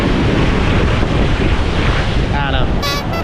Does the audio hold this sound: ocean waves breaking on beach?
yes